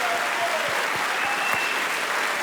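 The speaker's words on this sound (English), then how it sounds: "you can do thunderous applause if you want" An audience applauds at a hall of fame induction ceremony, steady and full, filling the room throughout with no voices over it.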